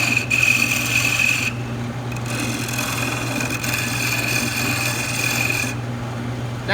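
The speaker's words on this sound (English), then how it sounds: "I'll use the gouge first to get everything pretty close to that same diameter" A gouge cuts a small wooden knob spinning on a lathe, giving a steady rough scraping rasp over a constant motor hum, with brief lighter pauses as the tool lifts.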